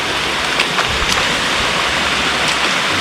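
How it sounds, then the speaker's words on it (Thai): Heavy rain falls steadily in a forest near a waterfall, making a dense, loud, unbroken hiss with no voices. "ฝนมันตกแรงอยู่นะ"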